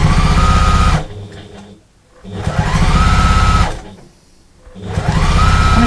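Sewing machine stitching a large fabric storage bag, two close, loud bursts of fast motor-driven stitching separated by brief pauses, with a third burst starting at the end.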